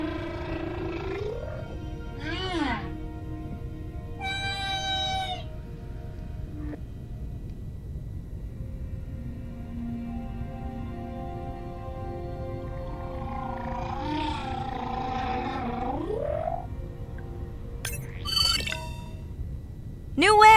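Whale social calls in the underwater game Beyond Blue: separate rising and falling whistles, squeals and moans spaced across twenty seconds over a low, quiet ocean rumble, with a sharper burst of calls near the end.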